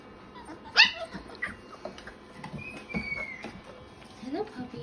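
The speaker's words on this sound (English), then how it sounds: "Hello, puppies." Small puppies in a box give off a sharp yip, then softer whimpers and little barks, fairly close and quiet, with a person speaking gently among them.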